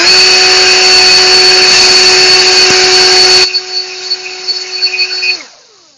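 A battery-powered handheld electric blower roars with a loud, steady high-pitched whine, then its pitch drops as it is throttled down and finally winds off to quiet.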